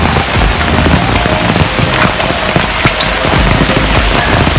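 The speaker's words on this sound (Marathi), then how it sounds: "पाऊस खूप आहे या पावसामध्ये आपण छत्री घेऊन व्हिडिओ बनवतोय" Heavy rain pours steadily and loudly on the Mumbai–Goa highway (NH-66) at Rajapur, a dense hiss of drops striking surfaces close by with no pauses.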